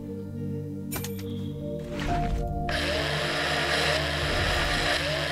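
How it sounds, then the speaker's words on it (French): A mining drill in the space survival game Breathedge whines into action and grinds steadily as it harvests aluminium, loud and continuous after a few brief clicks and a rising start. "Je crois qu'il faut la perceuse."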